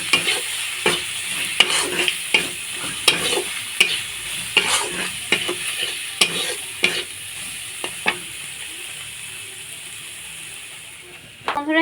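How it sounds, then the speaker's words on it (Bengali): Ginger and garlic fry in a pan with a steady hiss, broken by repeated sharp clinks and scrapes of a spatula stirring them at an uneven pace, close and moderately loud throughout. "আদা রসুনটা ভালো ভালো করে ভেজে নেব"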